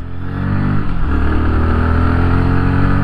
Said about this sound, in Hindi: बाइक का आवाज़ जो है वो एग्जॉस्ट नोट जो है वो बेसफुल है